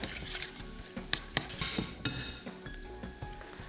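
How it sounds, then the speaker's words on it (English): Spice paste for a Goan fish curry being sautéed in a pan, with a spoon clinking and scraping against the pan over a soft, low sizzle; clear, close stirring sounds with no talk. "So we have added the spice paste. So saute that really well."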